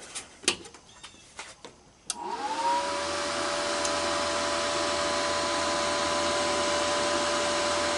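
An HZXVOGEN MIG 185 3-in-1 welder is switched on after a few handling clicks and knocks; a cooling fan then spins up with a rising whine and settles into a steady, continuous whir.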